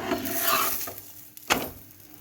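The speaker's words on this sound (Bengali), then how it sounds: "পরোটা ভেজে নিচ্ছি।" A paratha sizzles softly as it fries in a pan, with a few light scraping stirs and a sharper utensil knock midway, close and fairly quiet, with no voices.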